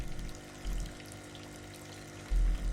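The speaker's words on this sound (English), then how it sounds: "Left wall is lined with churning tanks of water." Churning water in a row of metal tanks lining the wall of a bait shop in the game Kentucky Route Zero, a steady low bubbling wash with two brief louder surges.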